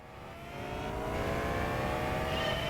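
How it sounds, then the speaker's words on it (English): A McLaren MP4-12C engine in Gran Turismo 5 drones and climbs steadily in pitch as the car accelerates, a smooth rising whine growing slightly louder throughout. "I'm driving the MP412C."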